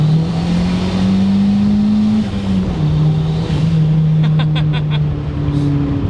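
A big-turbo Honda CR-V engine hums loudly and steadily from inside while driving, with the pitch rising and falling gently as the throttle changes and a brief fluttering near the end.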